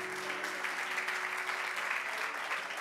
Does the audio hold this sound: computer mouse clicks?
no